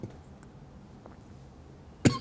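A single sharp cough bursts out near the end, loud and close, after a stretch of quiet room tone with no talking.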